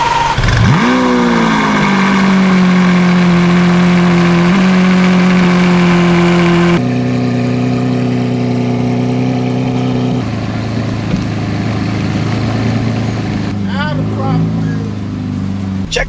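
A Lamborghini Aventador V12 fires up with a sharp rising roar, settles into a loud steady idle hum, then shifts to a deeper drone with brief revs near the end, close and constant throughout.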